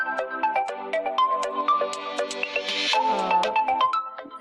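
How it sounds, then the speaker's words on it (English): A mobile phone plays a bright, melodic ringtone for an incoming call placed by an IoT sensor-based home security and alert system, repeating its tune clearly and steadily with no talk over it. "there's a phone call received"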